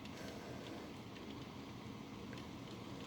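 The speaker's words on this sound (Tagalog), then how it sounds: "Yan, umulan na." Rain falls steadily on a street in BGC, heard as a soft, even hiss of drops with a low background rumble and no voices.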